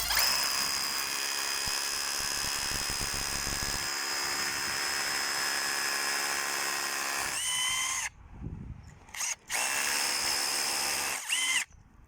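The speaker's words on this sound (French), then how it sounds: "J'y vais avec le perfo." An AEG BBH18C cordless rotary hammer drills into a reinforced concrete pillar with a loud, continuous, close hammering whine for about eight seconds, then stops and restarts in two shorter bursts with brief pauses between them.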